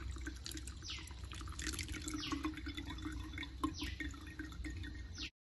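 Freshly made orange juice drips and trickles through a strainer, with quick, irregular droplets falling into liquid over a soft background wash, close and fairly quiet.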